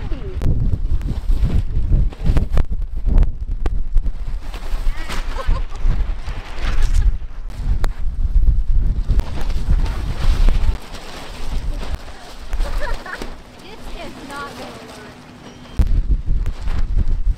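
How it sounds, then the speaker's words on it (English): Strong tropical storm wind gusts buffet the microphone in heavy low rumbling bursts, with voices talking intermittently underneath. "Tropical storm that's hitting right now, so that's why it's so windy."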